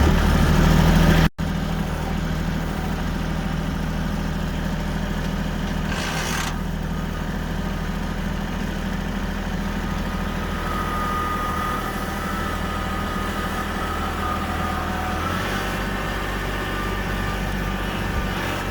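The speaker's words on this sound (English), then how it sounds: "I'll make do with my little tractor, and we'll push them big old bales around" A small tractor engine idles with a steady low rumble throughout, close by and unchanging.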